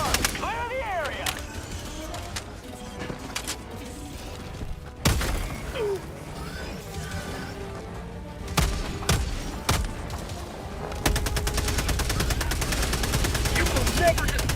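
Video game combat from Helldivers-style play: a Hellbomb detonation and bursts of automatic gunfire, with repeated sharp shots and thumps over a steady noisy battlefield bed, a heavy blast near the middle and dense continuous fire toward the end, with brief voice chatter.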